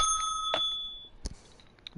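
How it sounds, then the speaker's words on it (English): A bell dings twice in quick succession, bright and ringing with a lingering decay, then a fainter third strike follows after a pause, all alone without any talking. "And don't forget to ring the bell."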